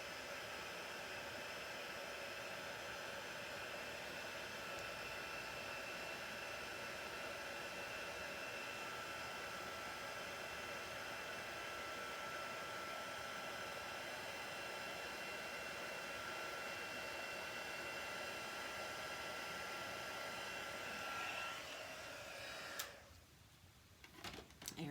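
A heat tool blows continuously to melt embossing material for a 3D embossed card, a steady close whirring hiss that holds for over twenty seconds before cutting off abruptly near the end.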